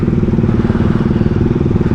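Yamaha Mio i 125 scooter engine under way, a loud, steady, close-up rumbling drone with a fast pulsing beat throughout, and no talk over it.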